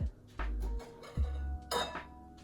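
A bowl and a spatula are pulled out and handled in a kitchen, giving a few close clinks and knocks of dishware with low thumps between them, no speech.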